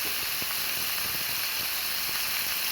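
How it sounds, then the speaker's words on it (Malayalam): Anchovies fry in a pan, giving a steady, dense hiss of hot oil that holds evenly throughout without pause or speech. "മീൻ വറുക്കാൻ വേണ്ടിയിട്ട് ഞാൻ പാനിലേക്ക് എടുത്തിട്ടുണ്ട് ഇത് നെത്തോലി"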